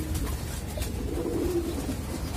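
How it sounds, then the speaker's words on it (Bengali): Pigeons bathing in water, their low soft cooing running through the moment alongside faint splashy background noise, near and steady, with no talking. "খুশিতে গোসল করতেছে কবুতরগুলো"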